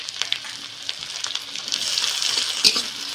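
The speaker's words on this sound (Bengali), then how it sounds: "টমেটোটা একটু ভেজে নেব।" Chopped tomato sizzling with softened onions in a hot pan, a steady bright crackle and hiss with small stirring clicks, close and continuous, no speech.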